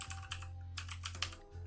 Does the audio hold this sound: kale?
no